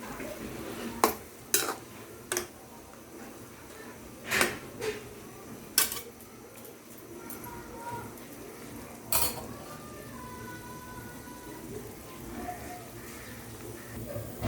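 A utensil stirs pork and string beans for adobong sitaw in a pan, with scattered sharp metal clinks and scrapes over a soft simmering background.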